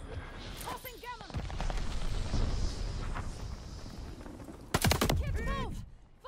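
Heavy gunfire in Call of Duty Vanguard: bursts of automatic fire and booming shots, with a loud volley near the end, while voices shout over the battle.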